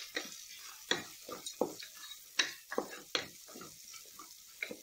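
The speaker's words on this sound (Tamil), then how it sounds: "இது ஒரு 2-3 மினிட்ஸ் இப்படி வதக்கி விடுங்க" Onions with salt sautéing in a pan, with repeated rhythmic scrapes and clicks of a spatula stirring over a faint background sizzle.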